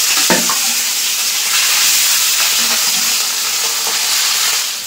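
Fish pieces frying in hot oil, a steady broadband sizzle throughout with a few stirring clinks and scrapes near the start, close and fairly loud.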